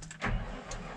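A Valtra tractor engine cranks and catches at once, a loud low rumble surging up after a brief starter whir, then settling into a steady idle.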